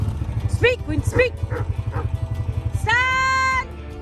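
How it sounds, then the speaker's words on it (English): A farm dog gives a few short, sharp barks on command beside an idling quad bike, with sheep nearby. The engine rumbles steadily underneath, and a drawn-out sheep bleat follows near the end. "Speak, Win, speak."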